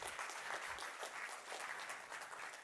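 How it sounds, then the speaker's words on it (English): A faint, distant wash of steady crowd applause at a conference event, continuous dense clapping with no pauses for a few seconds. "Everybody give Fiendish a round of applause here"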